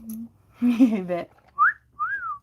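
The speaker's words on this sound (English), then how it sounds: "I did a wolf whistle!" A person whistles a two-note wolf whistle, a rising then falling pair of clear tones, right after a short burst of nearby speech.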